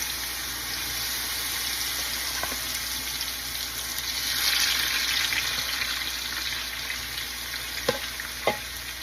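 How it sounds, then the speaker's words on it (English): Shrimp frying in olive oil in a pan, a steady close sizzle with a brief louder swell midway and a couple of sharp pops near the end, no talking. "put the shrimp in here"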